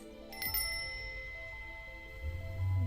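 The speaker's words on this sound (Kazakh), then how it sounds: "қоңырауды естіген сәтте қолыңызды көтеріңіз." A shop doorbell chimes with a brief bright ring early on, then its tone lingers faintly under low room noise in a store during a Korean film scene.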